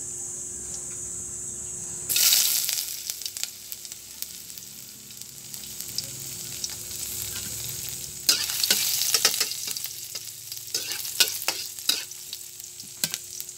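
Ginger frying in a heated pan, a loud sizzle bursting in near the start and continuing with stirring scrapes and clatters, no talking.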